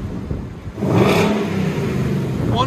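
A stock 2020 Ford Mustang GT with the 5.0L Coyote V8 revs up loudly and close by, a rising throaty roar that holds steady for a couple of seconds after a brief lower idle.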